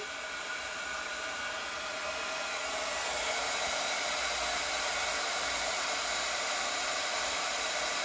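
An embossing heat gun blows hot air in a loud, continuous, even whoosh that runs steadily from start to finish with no break.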